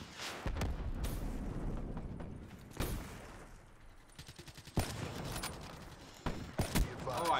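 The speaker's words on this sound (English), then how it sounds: "Oh, I shot that other guy." Gunfire in Call of Duty: Black Ops 3 multiplayer, with scattered sharp shots and short bursts over a quieter game-sound background, spaced irregularly across the clip.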